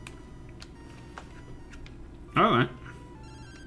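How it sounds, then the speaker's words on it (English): A phone rings in a Pokémon video game, a brief electronic warbling tone in a single short burst. A quiet voice speaks over faint game background sound. "Professor Coda's ringing you."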